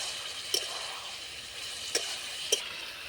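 Fried soybeans for chilli soybean sizzle in a frying pan as a spoon stirs them, giving three distinct scrapes over a steady hiss.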